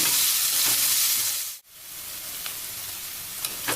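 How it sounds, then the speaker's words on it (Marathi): Chopped onions sauté in a pan over medium-low heat until pink, a steady close frying hiss and sizzle broken by one brief dip and a few light stirring clinks. "आपण छानपैकी परतून घेऊयात थोडासा गुलाबी कलर येईल असा"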